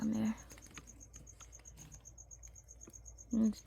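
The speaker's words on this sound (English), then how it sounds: "Yes, there are crickets in here too." Crickets in a pet enclosure chirp in a fast, even, high-pitched pulse that runs steadily throughout, close and quiet, with brief louder bursts of other sound at the start and end.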